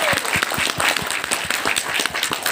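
Indoor audience clapping together at a seminar, a dense, steady burst of applause filling the whole moment with no voices over it.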